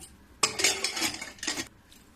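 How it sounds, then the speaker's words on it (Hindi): A metal lid clanks onto a pressure cooker in a home kitchen, a sudden clatter followed by scraping rattles and a second brief metallic knock, close and fairly loud. "अब इसकी ढक्कन लगा देती हूँ।"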